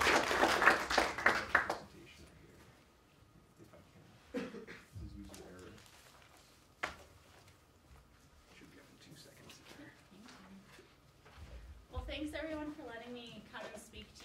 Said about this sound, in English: let's get a round of applause for Chandra.